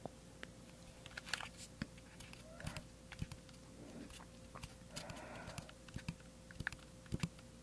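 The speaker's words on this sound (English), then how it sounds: "There's always just simply playing with the recorder itself, being plastic. It makes plasticky noises" A plastic handheld audio recorder being handled close up, giving scattered clicks, taps and light plasticky knocks at irregular intervals over a quiet background with a steady faint hum.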